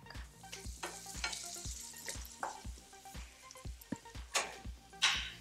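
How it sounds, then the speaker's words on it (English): Shrimp for shrimp scampi fry in a pan, a soft sizzle under a run of rhythmic clacks and scrapes from stirring, with a louder spatter near the end. "I'm going to finish cooking the shrimp"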